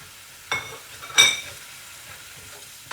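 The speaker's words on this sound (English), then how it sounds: "Give it a good stir." Spices (pepper, chili, cumin, coriander, turmeric and salt) being stirred into pepperwater in a pot: two brief spoon scrapes and clinks against the pot over a quiet background.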